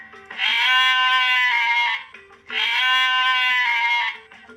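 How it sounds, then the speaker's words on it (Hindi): An old goat lets out two long, loud bleats in a row, each strained and nasal, with a brief pause between them. "तभी बकरी चिल्लाई।"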